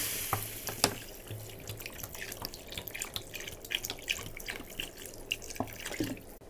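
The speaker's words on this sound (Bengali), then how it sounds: "কষানো হয়ে গেছে, জল দিয়ে দিচ্ছি।" Water is poured into a simmering vegetarian curry in a pan, giving a close, continuous splashing and trickling that lasts several seconds, with a few sharp knocks near the start.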